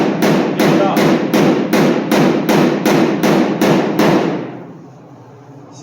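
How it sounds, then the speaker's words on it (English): Hand hammer strikes a hot tack weld on sheet metal in a custom car shop: about ten loud, evenly spaced metallic blows, close up, followed by a quiet trailing room tone. "before it cools down completely, I'm going to take my hammer"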